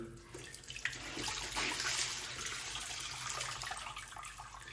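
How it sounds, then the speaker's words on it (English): Dirty wash water drains out of a sink after clothes are hand-washed, making a steady gurgling, rushing flow that stays close and continuous throughout, with no talking. "and I'm gonna drain this water. This is the dirty water right here, right?"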